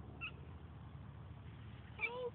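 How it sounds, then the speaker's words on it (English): A Siamese cat gives a short, faint meow near the start and a second, clearer meow near the end, close by, with quiet room tone between them. "Oh, he's one of the Siamese cats."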